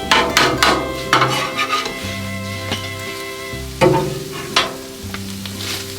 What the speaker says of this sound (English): The eggs are only going to take about a minute. I don't know, maybe a minute and a half at the most to scramble up